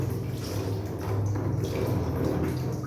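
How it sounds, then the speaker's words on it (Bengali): Water is poured over a screen-printing screen, producing a continuous splashing wash with a low rushing flow that holds steady throughout the short stretch, close by and without speech. "জল ঢালতে হবে শুধু জল ঢালতে হবে"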